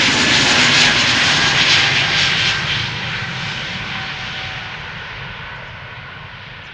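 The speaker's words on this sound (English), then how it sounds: "EasyJet A330 Neo to Nice" A loud EasyJet A330neo jet airliner roars at Amsterdam Schiphol Airport with a powerful broadband engine rush that slowly fades as it moves away, heard alone.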